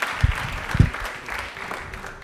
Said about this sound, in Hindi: एक बार तालियां जोरदार हो जाए